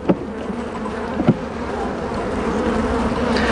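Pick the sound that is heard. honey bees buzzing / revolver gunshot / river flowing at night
honey bees buzzing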